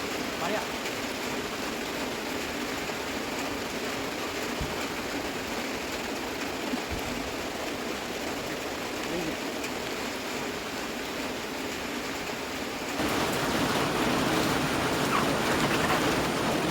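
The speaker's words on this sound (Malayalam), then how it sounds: "മഴ." Steady rain pours over a village plot with a tree, a dense continuous wash that swells slightly louder toward the end, with no talk.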